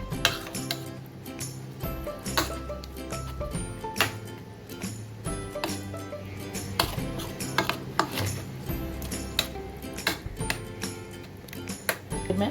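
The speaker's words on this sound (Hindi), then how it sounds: "ये इनमें मिक्स करूँगी ये सारा मसाला।" Thin meat slices for pasanday are mixed with masala in a metal pot, with a repeated scraping stir and frequent sharp clinks of a spoon against the pot, close and fairly steady.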